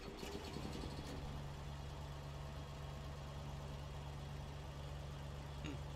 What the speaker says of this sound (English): the generator's running